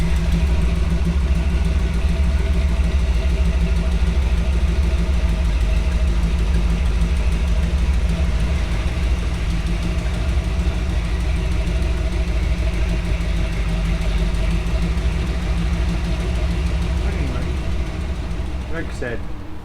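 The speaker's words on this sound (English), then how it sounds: "This thing has a hydraulic winch, huh? Yeah, it runs off the power steering pump." Original Jeep engine idling steadily as it powers a hydraulic winch off the power steering pump, a continuous low rumble with some clatter, close and fairly loud throughout.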